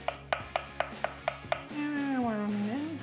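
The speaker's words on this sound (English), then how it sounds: "Next up, a white onion. White, preferably, not red. And again, finely sliced, very finely sliced." Knife finely slicing a white onion on a board for coleslaw: six sharp, evenly spaced chops in quick rhythm, close and clear, then stopping as a steady tonal hum or voice-like drone takes over.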